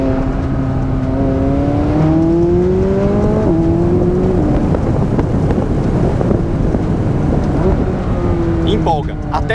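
McLaren 570S V8 engine and turbos while driving, a loud, steady engine drone with rising and shifting pitch under heavy wind noise for nearly ten seconds.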